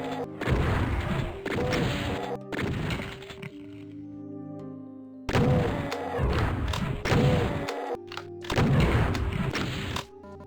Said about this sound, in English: Shotgun these revenants.